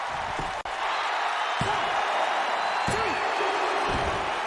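A pro wrestling body slam at Austin Wolf's indie event, with FBA spiked onto the mat: several dull thuds land over a loud, steady roar of crowd noise in an arena, with no clear talk.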